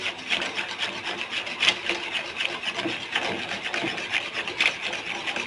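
A spoon scrapes and rubs through rice in a pot while kheer cooks, a close, repeated rasping rhythm of stirring strokes with no talking.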